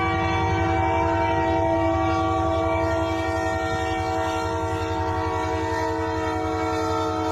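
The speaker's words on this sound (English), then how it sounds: "It's the Christmas train. All aboard." A Christmas train rumbles past, loud and close, with a sustained multi-tone horn blaring over the steady clickety-clack of wheels on rails for several seconds.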